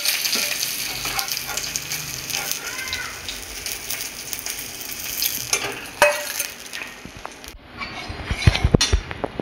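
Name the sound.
fish lightly frying in a pan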